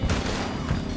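A gunshot fired in the video game Red Dead Redemption 2 during a shootout, a loud close blast with a rolling echo and a second report trailing shortly after.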